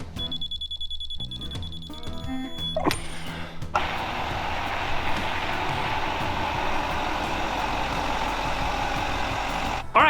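A lifted 2024 GMC 3500 truck: steady electronic reversing beeps and mechanical clunks open, then a loud continuous engine rumble and road noise as the truck is driven out.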